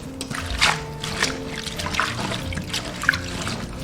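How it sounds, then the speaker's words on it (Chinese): Dried grass jelly herb swished and rinsed in a basin of clean water, with irregular splashes, trickles and drips close by, no talking. "把它放到清水中清洗表面的杂质"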